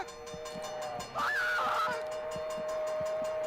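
Video game train passing a crossing, a horn-like tone sweeping up and holding while a steady hum and regular rhythmic clacks continue underneath, fairly loud and with no speech.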